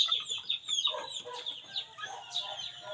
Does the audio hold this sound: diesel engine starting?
no